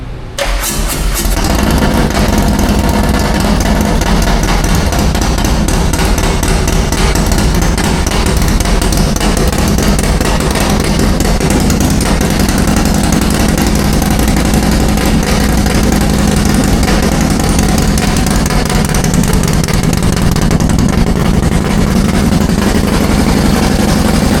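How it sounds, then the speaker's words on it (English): A custom motorcycle with a proprietary exhaust fires up for the first time, catching quickly and then settling into a loud, steady, throaty idle that holds close and unbroken for over twenty seconds. "I am just so taken back from the design of your exhaust. First startup."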